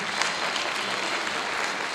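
Audience applause at a Georgian charity concert honoring Nugzar Tushishvili, a steady dense wash of clapping from a large crowd, continuous and fairly loud throughout with no pause.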